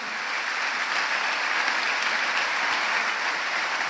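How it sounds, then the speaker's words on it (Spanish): Loud, sustained applause from a congregation at a church service, a dense, steady clatter of many hands clapping together without a break and with no voices over it. "den un aplauso al que es fiel, porque Él es fiel."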